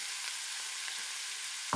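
Mushrooms and lardons fry in a pan with a soft, even hiss, and a single louder clunk sounds near the end. It is brief and quiet, with no voices.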